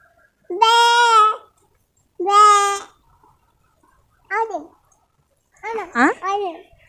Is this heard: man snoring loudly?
no